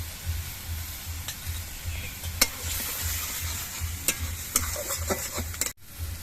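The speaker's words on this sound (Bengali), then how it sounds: "পেঁয়াজের পেস্টটা কিছুক্ষণ ভেজে নিয়েছি এবার এর মধ্যে দিয়ে দিচ্ছি এক চামচ আদা বাটা আর এক চামচ কাঁচা লঙ্কা বাটা" Onion paste fries with ginger and green chili paste in a pan, a steady close sizzle under repeated stirring and scraping, with sharp clicks of a utensil against the pan.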